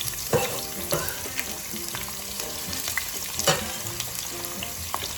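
Red onion sizzles and crackles steadily in a hot pan while shrimp cooks nearby, with scraping stir strokes and a few sharp clatters of a utensil over the continuous frying hiss, and no talking.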